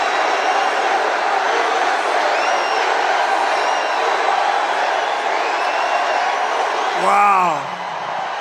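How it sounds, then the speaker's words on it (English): Large crowd at a Trump campaign rally in Uniondale, New York, a continuous roar of cheering and whooping, loud and sustained for the whole stretch, with a brief voice near the end. "This is a big crowd."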